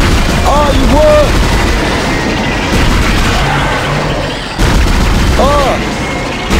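Pulse rifle gunfire blasts continuously in Dead Space, loud dense bursts of booming shots layered with whooshing, chirping game effects throughout.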